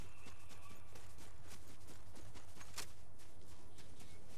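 A horse gallops in the Fortnite video game, a quick, even run of hoofbeats over a constant game background hum, with no talking.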